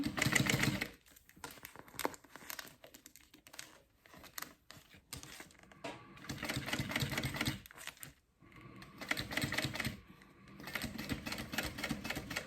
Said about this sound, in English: make sure you're top stitching on your zipper tape, not the vinyl